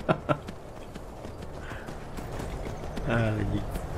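Horse hooves clip-clopping in the video game Skyrim, a few quick hoof thuds at first, then a steady rumble of movement with a brief horse snort near the end, with a voice talking over it.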